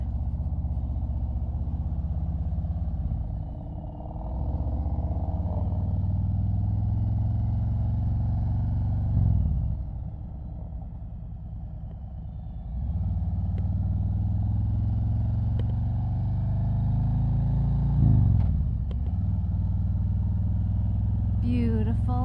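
A 2019 Harley-Davidson Road Glide motorcycle on a ride, its engine a steady low rumble with rises and dips as the throttle changes, plus wind noise, under occasional talking by the rider.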